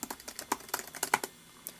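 Rapid, uneven clicking keystrokes on a Dell Mini 10v netbook keyboard, close and crisp, about a dozen presses in a quick burst with no talking.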